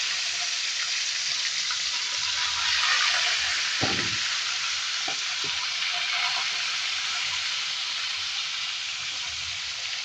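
Steady, even sizzling of fish frying in hot oil fills the whole clip, with a few soft clinks and taps partway through.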